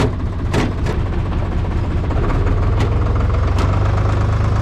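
An IHC 633 tractor engine runs close and loud in reverse gear, a steady heavy diesel rumble with a knocking pulse and a few brief metallic clicks over it.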